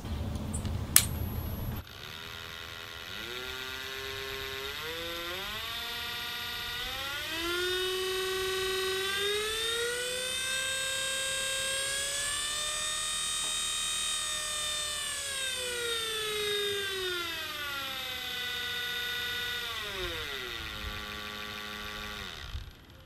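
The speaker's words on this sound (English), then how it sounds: "Let's see how many RPM we get from this motor." A 56V brushed DC Ego lawn mower motor runs on a bench under a speed controller, its whine rising in pitch, holding high, then winding down, after a sharp click at the start.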